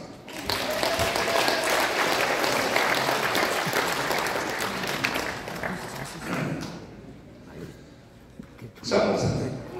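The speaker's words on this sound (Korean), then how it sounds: "박수 하겠습니다." Audience applause at an elder assembly for unification held at the Sogong Lotte Hotel, a long, dense roll of clapping filling the room before thinning out, with a short renewed burst near the end.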